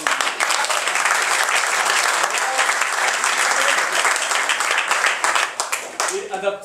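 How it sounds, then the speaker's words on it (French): A theatre audience applauds after an amateur staging of Laurent Baffy's comedy Toc Toc: dense, loud, steady clapping from many hands fills the whole stretch, thinning slightly near the end as a voice begins to speak. "On peut applaudir."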